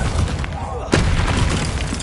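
A Bombarda spell blast in Hogwarts Legacy lands as one sharp, loud boom about a second in, then a rumbling tail over continuous game noise.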